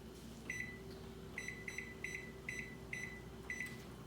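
A kitchen oven's control panel chirps through a series of short electronic beeps as it is switched on and set to 375, about eight quick tones in an uneven rhythm over a low steady hum.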